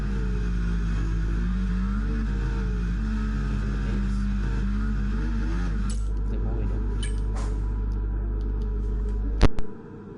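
A Formula 1 car engine from the F1 24 video game on a qualifying lap at the Belgian round, a loud continuous high-revving drone whose pitch rises and falls through gear changes before cutting off abruptly near the end.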